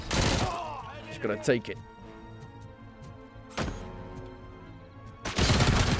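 Grenade explosions in the Robocop Rogue City video game, with heavy blasts bursting at the start, middle and end over rumbling gameplay noise while someone speaks briefly.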